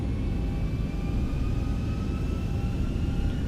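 Boeing 737-800 jet engines at takeoff power in the X-Plane 11 flight simulator, a steady deep rumbling roar with faint whining tones above, continuous and even without voices.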